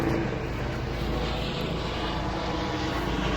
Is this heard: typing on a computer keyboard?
no